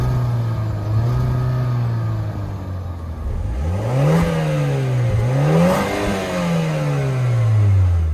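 Two compact SUVs, a VW Taos and a Mazda CX-5 with real dual exhaust, heard from outside as engines rev in rising and falling sweeps, loud and close with no talking.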